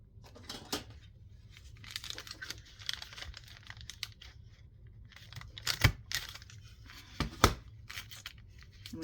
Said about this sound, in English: All right, so then we're gonna fold it up.